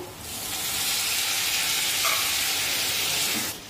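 Finely chopped tomato hits onion frying in a pan for a sukat chutney, setting off a loud, steady, close sizzle that holds evenly for a few seconds before stopping abruptly, with no talking.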